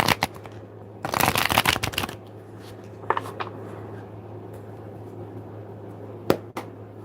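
A deck of tarot cards is riffled in one loud, crackling shuffle lasting about a second, followed by a few quieter taps and card flicks against a low, steady room hum.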